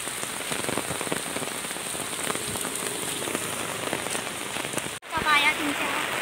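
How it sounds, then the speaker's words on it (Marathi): Heavy rain patters loudly and close at Khopoli in a dense, continuous wash, briefly cut near the end before resuming, with a voice partly audible over it. "जाम पाऊस आहे यार फालतू."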